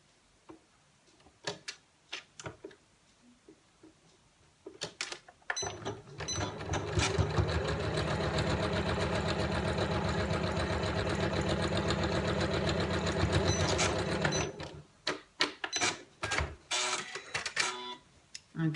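A Janome MC9900 sewing machine stitches a straight line on a drawstring bag, running in a steady, close mechanical whir for about eight seconds between quieter handling taps and clicks.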